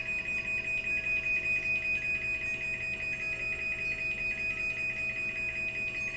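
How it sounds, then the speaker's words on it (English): A Chamberlain garage door opener warning alarm sounds before the door closes, a steady high-pitched electronic beeping repeating in a fast, regular rhythm, loud and close, with no talking. "it's going to sound an alarm, so anyone that's in the garage is going to know"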